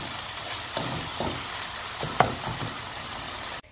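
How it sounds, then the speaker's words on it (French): Ground meat and vegetable stuffing fries in a pan, giving a steady sizzle broken by soft scraping stirs and an occasional spoon tap, then cutting off abruptly. "je vais laisser revenir la farce jusqu'à ce que les légumes soient bien cuits"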